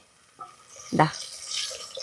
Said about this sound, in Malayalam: കുറച്ച് വെള്ളം ഒഴിച്ച് കൊടുത്തിട്ടുണ്ട്